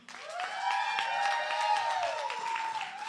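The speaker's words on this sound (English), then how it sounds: "let's give a round of applause to the brand new Mr. and Mrs. Malone" Wedding guests applaud the newlyweds at the reception: scattered clapping runs beneath a long, sustained whooping cheer that rises and holds before tapering off.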